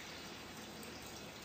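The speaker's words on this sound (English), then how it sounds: "So if I pour that into a couple of jugs" Water gushes steadily as it is poured into jugs up to a litre mark, a continuous close splashing stream without pauses or speech.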